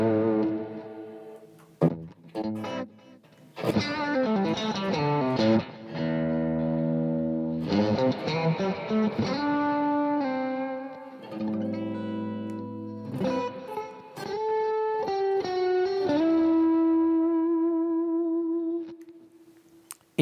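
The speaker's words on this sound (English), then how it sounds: "this is OD1, one of the bluesiest Boss pedals ever" An electric guitar runs through a vintage Boss OD-1 overdrive pedal, playing bluesy distorted chords and single-note bends with a touch of reverb, ending on a long sustained note alone.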